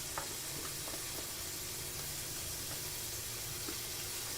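Garlic sizzling and frying as it goes into a pot of roast beef soup, a soft continuous hiss with light crackles and a few faint clinks, low in level and without talk.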